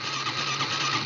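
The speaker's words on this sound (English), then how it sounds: "electric start." Honda CRF110F dirt bike with a carburetor, cold-started on the electric starter in near-freezing weather, giving a steady close mechanical whir and engine drone that runs unbroken and alone.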